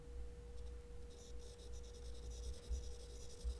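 Soft, faint scratching and tapping of a Galaxy Note 20 Ultra stylus moving across the phone's smooth screen, in short strokes over a quiet hum.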